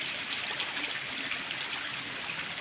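A mountain creek flows steadily outdoors, a continuous bright rushing and trickling of water with no pauses, close and fairly loud throughout.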